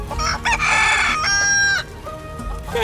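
Chickens in the Final Fantasy VII Rebirth video game, a close rooster crow with drawn-out tonal calls followed by shorter clucks, loud and alone without talk.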